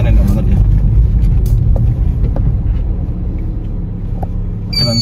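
A car with a newly replaced clutch gives a steady low engine and road rumble from inside the cabin while it pulls away, with a person talking over it throughout.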